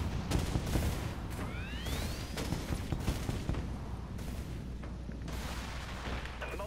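Torpedoes launch from a warship in the Dreadnought space combat game amid a dense, steady roar of booming fire and rumbling, with faint rising whistles as projectiles streak away.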